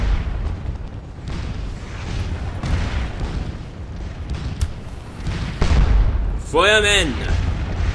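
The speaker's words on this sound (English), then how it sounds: "They might be stopped by the artillery after all." Muffled booms of cannon artillery in a Napoleonic Waterloo battle game, scattered under steady battlefield rumble with someone talking, and a shouted command near the end.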